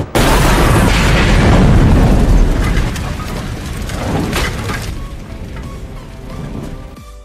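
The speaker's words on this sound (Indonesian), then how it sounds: "si Chris pun berniat untuk meledakkan sarang psikopat ini" A huge explosion blowing up the psychopaths' lair in a film, a loud deep roaring blast that slowly decays into rumbling and falling debris.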